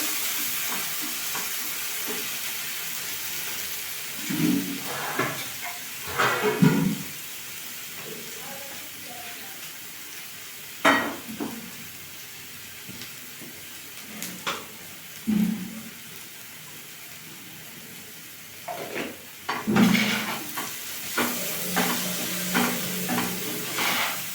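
Poppy seed paste stirred into bitter gourd and prawns frying in a pan, a low sizzle under intermittent scraping stir strokes that come in short bursts, close by.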